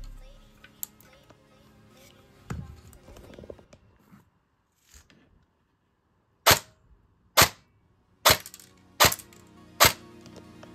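An airsoft gun fires five sharp, closely spaced shots through a chronograph, loud and near, after a stretch of quieter clicking and handling noises.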